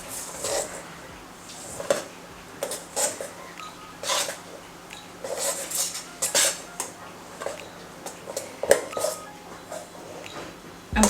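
Blueberry scone batter with frozen blueberries is mixed in a bowl, giving irregular knocks and scrapes of a utensil against the bowl in uneven bursts, close and fairly quiet, with no talk.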